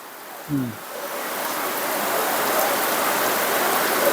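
Heavy rain pours down at a house as a loud, dense, continuous hiss that builds slightly over time. One brief low thump sounds near the start.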